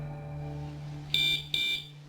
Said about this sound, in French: quelque chose déclenche une alarme